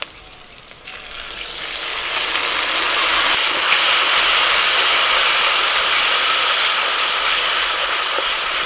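A pan of pointed gourd (parwal) paste and tomato paste hits hot oil, swelling within a second into a loud, steady, hissing sizzle that carries on alone without any talk.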